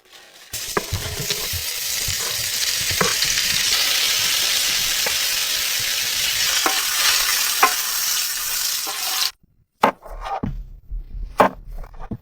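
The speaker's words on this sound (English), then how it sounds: "cuts it into small pieces, heats the oil in the pan, and starts frying" Loud, steady sizzling of small pieces of beef frying in hot oil in a pan, with occasional clanks of a utensil stirring; the sizzle cuts off abruptly near the end.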